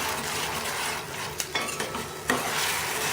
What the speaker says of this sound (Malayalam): ഇതിലേക്ക് നമുക്ക് മുളകും മഞ്ഞളും ആഡ് ചെയ്യാം. നന്നായിട്ട് ഇളക്കുക.